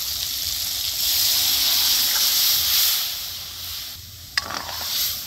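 Masoor lentils hitting hot oil in a pan for a sour amra dal, giving a steady close hiss and sizzle that eases off, with a brief sharp clatter near the end.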